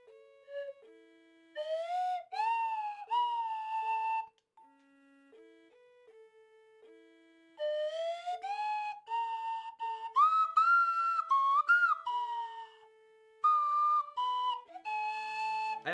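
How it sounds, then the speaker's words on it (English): A slide whistle plays a lively tune up close, its pitch gliding and swooping between notes in quick phrases, with a short quiet gap midway before the melody resumes, brighter and busier. No voices. "I'll do it on the slide whistle."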